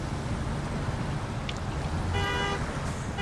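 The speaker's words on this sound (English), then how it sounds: "Pushing straight down on the button makes the horn honk." A truck horn honks once in SnowRunner, a short steady harmonic blast of about half a second over the constant low rumble of the idling engine, fairly near and moderately loud.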